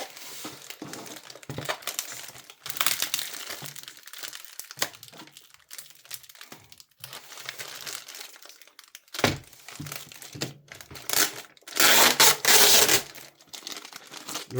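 Crinkly plastic packaging of a Takara Tomy Beyblade X 25th anniversary set being torn open and handled, close and loud, with repeated crackling bursts and a heavy crumpling flurry near the end.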